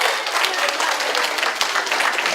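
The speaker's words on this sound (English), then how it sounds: "let's give the class of 2014 Americana Dear Graduates a big round of applause" Applause from an audience at a DARE graduation ceremony for the class of 2014, a steady wash of many hands clapping at moderate loudness throughout.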